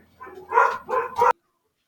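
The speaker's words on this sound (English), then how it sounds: "Dog" A dog barks three times in quick succession indoors, loud and close, then goes abruptly silent.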